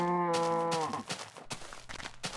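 Cows in an RPG Maker video game world give a long, loud, clear moo followed by a few shorter overlapping lowing calls, with no talking.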